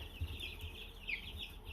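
Hatchery chicks, about two weeks old and kept in a flock of around 130, cheep and chirp in soft, continuous high-pitched peeps with a low background rumble and no talking.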